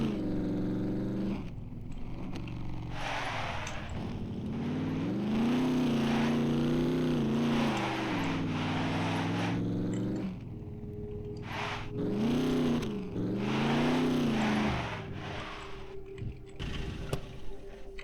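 A car engine driven through a multistorey car park in the survival game Scum, a steady droning note that rises and falls with revs, dips briefly, then surges again, loud and close with no talk.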